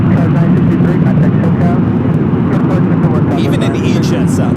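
Embraer E-Jet airliner rolling down runway 24 left at LAX, a loud, steady roar of jet engines dominating throughout with broadband rumble and a brighter hiss building near the end.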